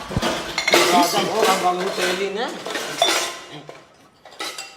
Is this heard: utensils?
yes